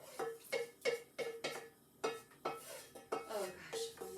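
Steamed vegetables go into a slow cooker pot for ham and beans, with a quiet run of metallic clinks and scrapes of utensils against cookware, about a dozen sharp knocks in quick, uneven rhythm.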